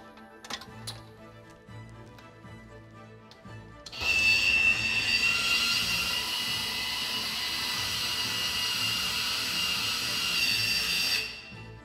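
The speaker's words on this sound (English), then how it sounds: "I will now open the switcher electrically." An Eaton Power Xpert XGIS switchgear switch opens electrically. A few faint clicks come first, then a steady mechanical motor whir runs for about seven and a half seconds and stops abruptly.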